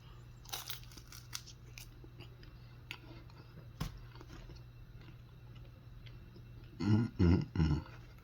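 Someone biting into and chewing a flaky, buttery sweet potato puff pastry, with a few faint crisp crunches early on and three loud, close chewing bursts near the end against a quiet room hum.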